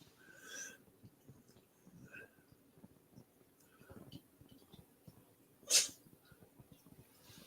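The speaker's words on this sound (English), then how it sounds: "One of my cats sneezed." A house cat gives one sharp, short sneeze partway through, close and clear over faint background rustling and breathing in a quiet room.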